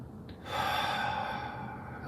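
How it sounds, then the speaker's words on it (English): A person draws an audible breath in during a slow weight-shifting movement exercise, a steady airy inhale lasting over a second, close to the mic with no talking. "So breathing in"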